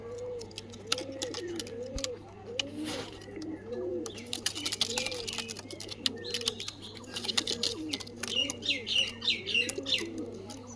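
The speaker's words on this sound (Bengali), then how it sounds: "দেখো পায়রাগুলো" Khar pigeon chicks coo in soft, repeated rolling phrases, close by and fairly quiet, with sharper chirps and rustling layered over a steady low hum.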